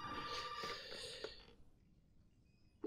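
A telephone rings inside the Resident Evil 7 game, a steady electronic trill with a few short pulses that fades out after about a second and a half, leaving quiet room tone before a brief thump at the end.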